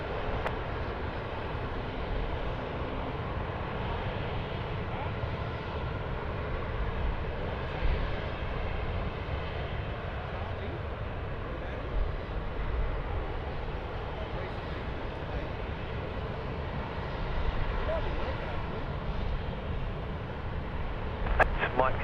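Airliner rolling for takeoff on runway 16 right at Sydney Airport, a steady broad roar of jet engines held at a constant level throughout, with radio voices talking over it.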